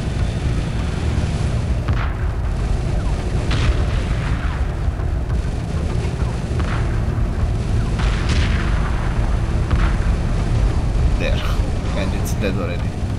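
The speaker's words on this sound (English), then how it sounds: "They just hit it with a couple of bombs." Bombs striking Chimera station in the space strategy game Homeworld 2 Remastered, producing several deep booming blasts and rumbling impacts at irregular intervals, with someone talking over much of it.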